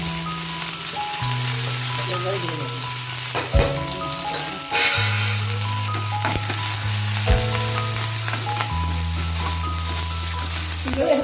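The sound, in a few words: curry leaves, green and dried chillies frying in oil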